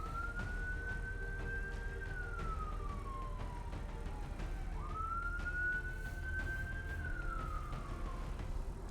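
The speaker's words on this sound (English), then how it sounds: "sirens just went past my apartment." Emergency vehicle siren passing outside an apartment, two rising and falling wails sweeping up and down in a steady cycle, fairly distant and muffled through walls over a low background hum, with no voices.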